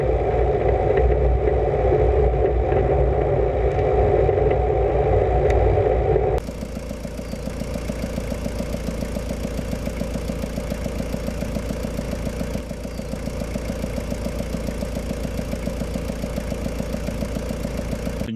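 A vehicle rolls along a forest gravel road, its engine humming steadily under a continuous rumble and clatter, with a sudden shift in tone partway through as the surface noise changes.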